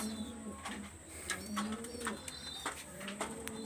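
Pigeons coo in low, soft, repeated calls, close by and steady throughout with no talking.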